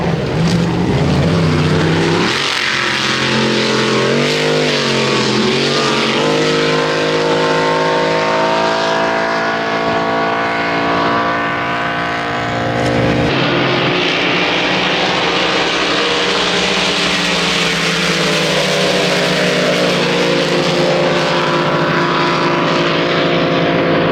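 Racing power boats speeding on the Hawkesbury River at Windsor, a loud, continuous high-pitched engine roar that rises and shifts in pitch as the boats pass, with no voices.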